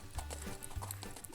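Hooves of a gentle Paint gelding ranch horse clip-clopping in a short, close run of steady footfalls with a faint voice in the background.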